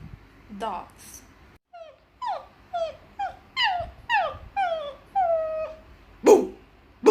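A girl imitates a dog with a series of whimpering yips and short barks in a rising and falling rhythm, close and clear, ending with a louder bark-like yelp.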